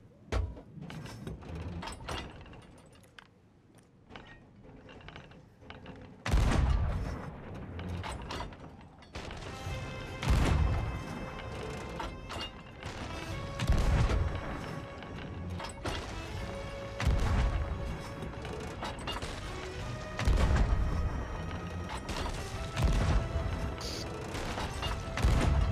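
Repeated heavy booming blasts of cannon fire from a pirate ship in the Sea of Thieves video game, loud and irregular, several shots over a rumbling bed of game noise.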